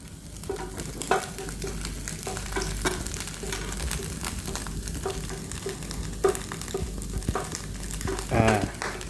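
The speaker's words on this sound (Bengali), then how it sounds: "ভালো করে লাল লাল করে ভাজতে হবে" Bhujia fries in oil in a pan before Maggi is added, giving a steady close sizzle broken by occasional stirring scrapes and clinks.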